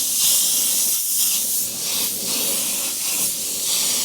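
An airbrush sprays a coat of paint onto artwork, a loud steady close hiss with slight pulsing as the spray continues uninterrupted.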